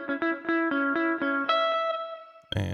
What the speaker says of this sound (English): Turn on the reverb a little bit.